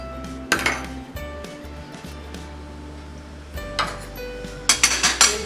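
An iron kadhai clanks down on the stove in a few sharp metallic knocks and clinks, followed by quieter rattles as oil is poured in and the pan settles, with more clattering toward the end.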